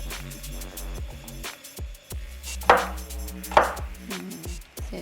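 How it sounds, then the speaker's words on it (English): A knife chops garlic on a cutting board in a series of sharp taps of uneven rhythm, two louder strikes standing out against soft kitchen background noise. "So you're chopping the garlic."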